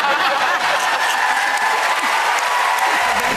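Loud, continuous applause from a Got Talent audience fills a large hall, mixed with some laughter and chuckling, with no break.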